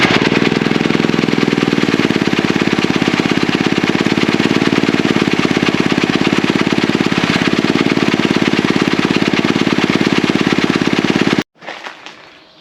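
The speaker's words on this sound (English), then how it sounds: "Here, let's turn it back on. Feels on. Shouldn't need any choke." An old generator engine runs loud and steady after a valve adjustment, a continuous close mechanical drone for about eleven seconds before it cuts off abruptly, followed by faint handling noises.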